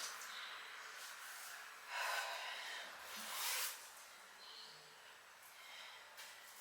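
Slow, deep breaths during a calm vinyasa yoga flow: a couple of soft, airy inhales and exhales through the nose, close and quiet, with no talking.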